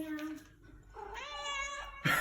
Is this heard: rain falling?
no